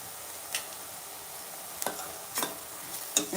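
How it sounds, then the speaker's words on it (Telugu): Chicken curry frying over a low flame, a faint steady sizzle broken by a few short scraping stirs of a spoon in the pan, no voices. "ఇది మంచిగా లో ఫ్లేమ్లో ఫ్రై చేసుకుంటాను."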